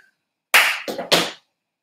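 Hand claps during a solo jazz dance step, one sharp clap followed by a quick pair of softer slaps and another clap, close and clean in a quiet room.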